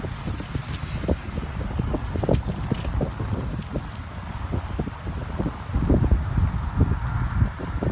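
Strong wind blowing outdoors, buffeting the microphone with a steady, heavy roar and gusts throughout, loud and close, with no other sounds standing out.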